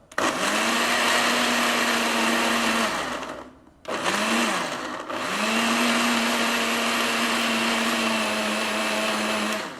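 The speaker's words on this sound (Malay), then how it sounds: "Masukkan air sikit. Masuk ke blender." A blender whirs loudly and steadily, blending spices with water, briefly stopping and restarting before running on for several more seconds.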